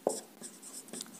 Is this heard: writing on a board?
yes